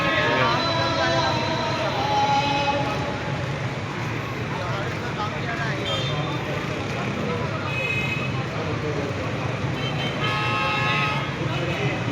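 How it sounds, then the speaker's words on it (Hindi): Dense road traffic during a crowded Muharram procession (8 Rabi al-Awwal, Gamay Shah to Islampura), with repeated car horn toots over a steady roadway rumble and a voice talking throughout. "सड़क पे जो ट्रैफिक है इस वक्त रश है ना"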